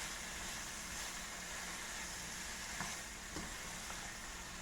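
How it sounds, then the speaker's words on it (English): Green, yellow, orange and red sweet peppers sauté in a pan, giving a steady, close, even sizzle with faint stirring scrapes throughout and no talking. "So I'm going to leave that there to saute for about 3 minutes"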